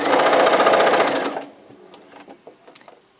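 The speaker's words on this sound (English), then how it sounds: "Now I am going to remove this from the sewing machine" A sewing machine stitches quilt fabric in a fast, loud, even run for over a second, then stops, followed by soft handling clicks and rustles.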